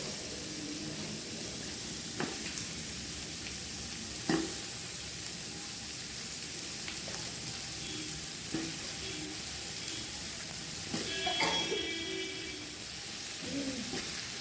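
Chicken for Pallipalayam chicken stir-fried over a high flame, a steady loud sizzle with occasional sharp clanks and scrapes of the spatula against the pan.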